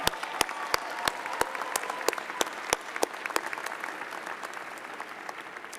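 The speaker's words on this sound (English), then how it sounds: "Please give Dr. Lori Crochet and the Winthrop Commencement Band a round of applause for their wonderful concert" A graduation audience at a Winthrop University commencement applauds the commencement band. Dense, even clapping from a large crowd is punctuated by loud, crisp claps from nearby hands at a regular pace.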